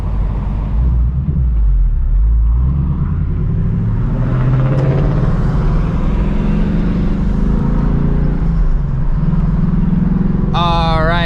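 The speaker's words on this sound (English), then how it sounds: "let's go ahead and get a POV drive of the S650" Interior cabin rumble of a brand-new 2024 Ford Mustang GT S650 being cruised gently during break-in, a steady low engine drone with road noise throughout and a brief faint chime near the end.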